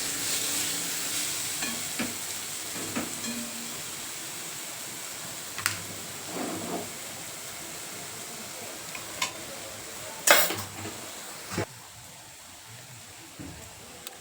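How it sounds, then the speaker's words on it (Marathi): Spice masala for soybean curry sizzling softly in a pan, a continuous gentle frying hiss punctuated by occasional scraping stirs and clinks. "आपला मसाला छान परतलेला आहे"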